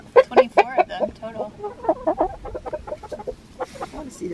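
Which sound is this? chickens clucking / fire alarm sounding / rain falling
chickens clucking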